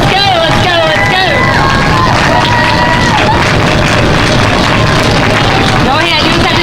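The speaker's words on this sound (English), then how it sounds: "Let's cheer them all." A loud, close crowd at a school Locks of Love 2013 hair donation event, cheering and whooping continuously in a thick babble of overlapping shouts with no pause.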